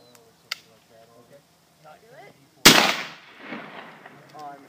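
A black powder gun fires once at a can at an outdoor shooting event, a single sharp, loud blast with a long rumbling decay, preceded and followed by people talking nearby.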